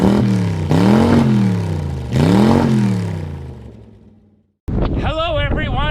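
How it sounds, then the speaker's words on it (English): Strong wind buffets a microphone outdoors in loud, rumbling gusts that swell twice and then die away, with a short fresh blast after a brief gap. "It's really windy right now"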